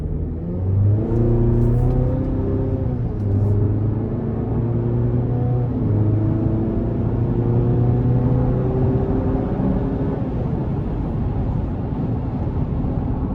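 A 2024 Chevrolet Colorado Z71 4WD pickup accelerates, its engine rising steadily in pitch through gear changes with a loud, continuous droning rumble heard from inside the cab.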